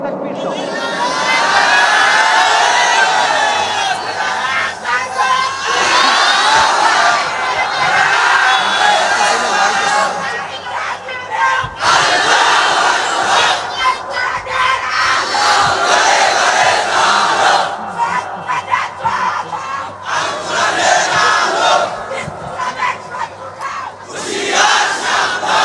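A large crowd at a Bengali waz sermon shouts the takbir, Allahu Akbar, in loud, dense bursts of massed voices that rise and fall repeatedly across the whole stretch, with short dips between surges.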